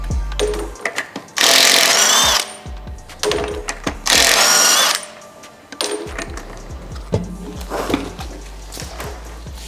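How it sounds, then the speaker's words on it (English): A power tool whirring loose the wheel bolts on a Land Rover Defender wheel, two loud sustained bursts separated by clanks and handling knocks of metal parts close by. "So we're going to take the bolts out"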